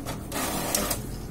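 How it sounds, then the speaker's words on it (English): A printer runs through a print job on a shipping waybill, a loud close whirring mechanical feed with a couple of brief clicks partway through, and no voices. "once I do that, the printer will start working"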